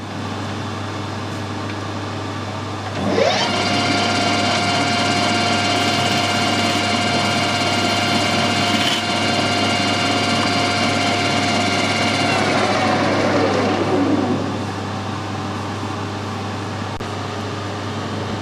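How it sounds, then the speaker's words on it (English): A metal lathe screw-cutting a thread spins up with a steady whine and hum, runs evenly for several seconds under a constant low drone, then winds down as the cut ends. "Now we'll set the lathe up and screw cut that thread."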